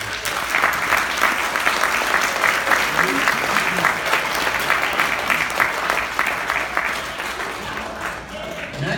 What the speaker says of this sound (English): So, kids, give yourself a round of applause.